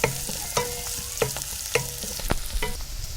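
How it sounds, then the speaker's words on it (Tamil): Green chilies and curry leaves sautéing in hot oil for a Tamil cowpea kuzhambu, with steady crackling sizzle and repeated sharp spoon-stirring clatters against the pan, close and alone without talk. "எல்லாம் சேர்ந்து நல்லா வணங்கி வரட்டும்."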